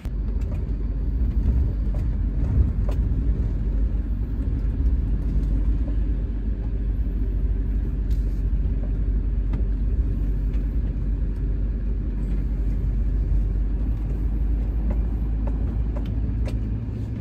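A race car's engine rumbles steadily from inside the cabin while driving, a continuous deep drone with faint road noise and occasional small knocks, no talk.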